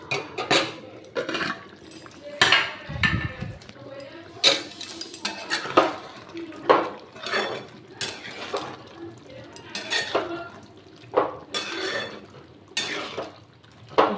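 A cooking pot of vegetarian paneer curry simmering on a low gas flame has its lid lifted, with a string of sharp metallic clinks and clanks, then light scraping and stirring sounds, close and fairly loud.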